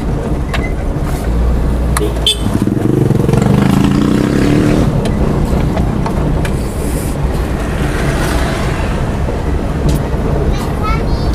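A Toyota Kijang Super 5K engine fitted with a CDI ignition rumbles close by and is revved, the throaty roar rising and falling under some background voices.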